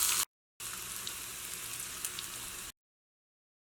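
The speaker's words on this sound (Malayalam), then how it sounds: "ഇനി ഇതിലേക്ക് നമുക്ക് ഉള്ളി ചേർക്കാം." Onions sizzle loudly in hot oil with dried red chillies in a pan, a steady close crackling hiss interrupted by short silent gaps.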